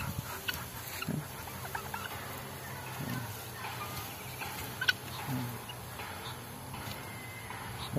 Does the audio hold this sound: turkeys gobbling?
yes